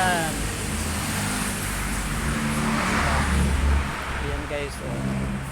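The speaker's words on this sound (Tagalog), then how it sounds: "ang daming dumadaang mga motor" Motorcycles and cars rush past on a highway just outside a house, a steady loud roar of engines and tires with a person talking over the traffic.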